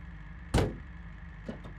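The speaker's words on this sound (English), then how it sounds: "Another thing too I wanted to check out was the door closing noise." A car door on the Gavril MD in a driving video game shuts with a single solid thump, followed by a fainter second knock about a second later, heard alone.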